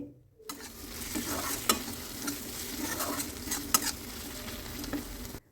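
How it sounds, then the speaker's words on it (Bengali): Cabbage with turmeric and salt sizzles in a pan while being stirred, a close, steady frying hiss punctuated by repeated scraping clinks of the spatula. "হলুদ আর লবণ দিয়ে এবার বাঁধাকপিটাকে বেশ ভালো করে ভেজে নিতে হবে"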